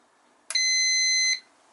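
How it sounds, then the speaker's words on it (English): A brewery control panel's timer alarm buzzer sounds one loud, steady electronic tone lasting just under a second, alone in a quiet room. "The buzzer will go."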